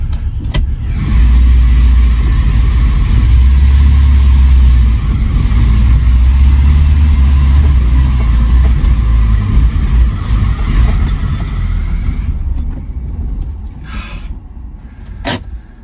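A 1977 BMW 320i driving, its engine droning loud and steady from inside the cabin with road rumble, easing off toward the end with a few faint clicks.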